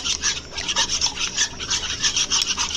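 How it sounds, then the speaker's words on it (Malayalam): Eggs being beaten in a bowl for coating sweet potato pieces before frying, a continuous rapid scraping whisk with steady rhythmic strokes, close and fairly loud with no talk. "മുട്ട നമുക്ക് അടിച്ചു കൊടുക്കാം"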